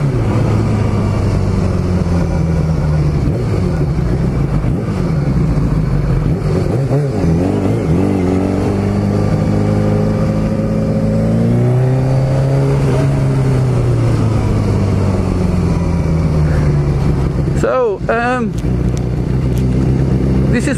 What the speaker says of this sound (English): warm the engine up a bit.